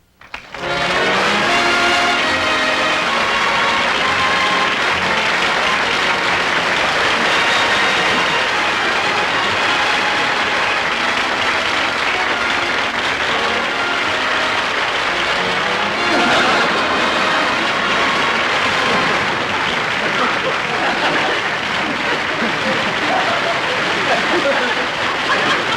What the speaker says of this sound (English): Look at him milk that applause.